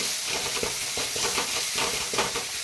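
Onion frying in a pan with green chili and garlic paste gives a steady, close sizzle. Stirring scrapes and taps break through it at intervals, and no one speaks.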